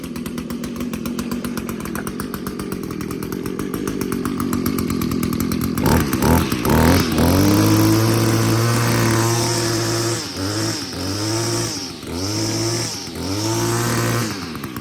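Gas string trimmer with a recoil starter, close and loud, idling roughly before revving up and down in several throttle bursts.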